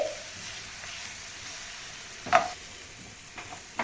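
Onions sizzle steadily in a pan while frying until golden for a dhaba-style paneer curry, with a brief spatula stir near the middle and a soft, even hiss throughout.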